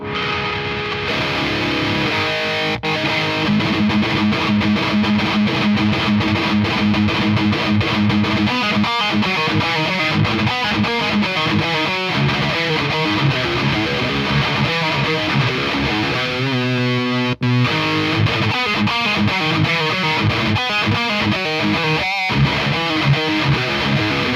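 An ENGL Savage 120 mk II amplifier with a boost in front gives a heavily distorted electric guitar tone, loud and sustained, with chugging riffs, ringing chords and brief stops, played alone with no talking.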